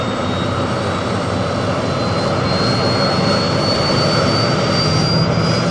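Rocket-style engine roar at blast-off for the Joe 90 test flight, a loud, dense, continuous jet-like rush with a faint rising whine, sustained without break.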